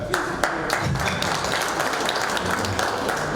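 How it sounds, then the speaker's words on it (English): Round of applause from an audience at a panel discussion on an industry and commerce survey, dense steady clapping filling the whole stretch at moderate level, with scattered sharper claps standing out. "Yes, the round of applause is actually very well deserved on this occasion."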